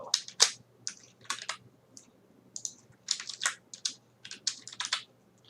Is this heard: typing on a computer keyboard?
yes